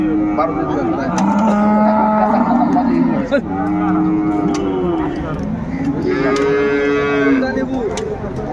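At a rural cattle market in Dinajpur, a dairy cow lows in several long, drawn-out moos close by, with market chatter and voices in the background.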